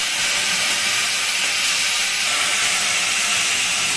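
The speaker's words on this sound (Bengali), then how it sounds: "ডালটা ভেজে দিলাম" Urad dal frying in a pan after tempering, a dense continuous hiss and sizzle that stays loud and even throughout, with no voices.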